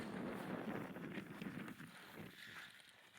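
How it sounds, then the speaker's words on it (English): Strong wind, around 40 mph, pushes against a Fjern Stormgrotta 2P tent, a steady rushing roar with buffeting mic noise, loud and continuous, no talk. "there's the wind pushing into it"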